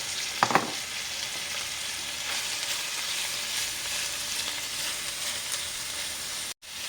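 Sliced banana heart going into a hot frying pan, with a brief clatter and sizzle as it drops in, followed by a steady close hiss of frying and a short gap near the end.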